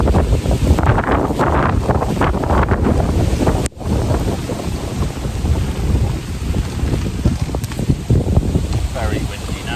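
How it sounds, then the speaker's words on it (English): Strong wind gusts buffet the microphone at a reed-lined lake margin while carp fishing, a loud, continuous roaring rumble with brief dips and no talk. "Very windy now."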